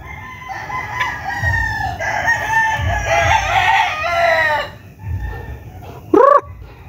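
Several stag roosters crow in overlapping, drawn-out calls close by, with clucking chickens underneath and one short, loud call rising near the end.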